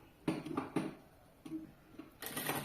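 A sewing machine stitches the pocket of a bag that converts into a backpack: short bursts of quiet mechanical whirring and ticking, a few separate stops and starts, close by with no talking.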